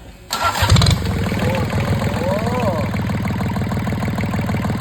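Yanmar 3TNE74 three-cylinder, 21 hp engine cranks and catches almost at once, then settles into a steady, close, rhythmic idle that stays loud throughout.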